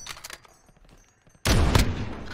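Gunfire in Call of Duty Warzone: scattered faint shots at first, then a loud close burst of rapid fire near the end.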